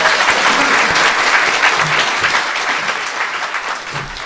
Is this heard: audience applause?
yes